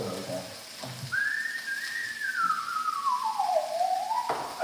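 A single long whistled tone, sliding smoothly from higher to lower pitch and rising again at the end, moderately quiet with faint room noise.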